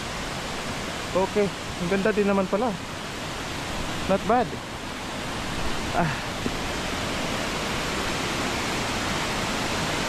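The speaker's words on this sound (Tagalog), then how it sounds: "Series of waterfalls." Steady broadband rush of the Mae Pan waterfalls, a tiered series of cascades in a Chiang Mai forest, fills the scene continuously while a few people chat briefly over the roar.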